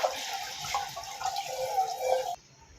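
Tap water runs steadily into a kitchen sink while bowls are washed. A close, hissing splash continues for about two seconds and then stops abruptly.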